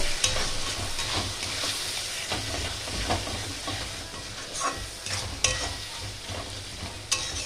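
Mutton masala with red chili powder being sautéed in a pan, crackling sizzle broken by sharp spatula scrapes and knocks at irregular intervals, close and fairly loud with no speech.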